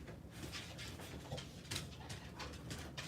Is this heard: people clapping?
no